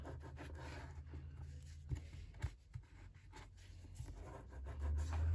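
Paper hinges on a handmade 6x6 photo mini album are folded and burnished. Soft, close rubbing and light scraping strokes repeat irregularly beneath a low background hum, quiet throughout.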